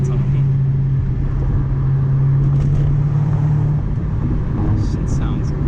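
Audi B6 A4 fitted with a full ECS catback exhaust, driving at night: a loud, steady exhaust drone and road rumble run throughout as a close in-car sound, with a voice talking over it.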